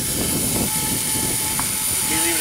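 A small battery-powered RC helicopter hovers close by, its steady whirring rotor buzz continuous throughout with a faint rising whine near the end, while people talk over it.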